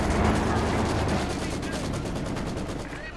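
Rapid machine gun fire from a Maxim in the strategy game Company of Heroes 2, with dense continuous bursts layered over battle noise, loud and sustained, and a commentator talking underneath.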